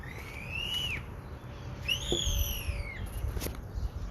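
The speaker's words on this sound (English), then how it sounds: "I don't know if you guys could hear that bird, but that was an interesting sound" Two long, rising-then-falling whistled bird calls ring out clearly over a quiet outdoor background, with a faint click between them.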